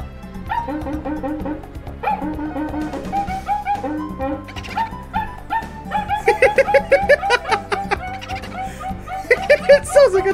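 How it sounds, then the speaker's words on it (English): A friction drum rubbed from inside gives a run of whooping, yelping calls much like a dog, rhythmic and close, growing denser and louder toward the end over a steady musical backdrop. "he's just rubbing it against the inside of the drum"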